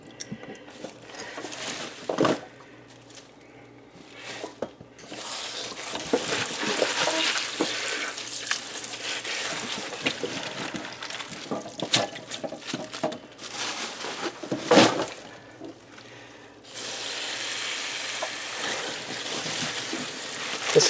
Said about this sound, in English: Let out the dirty water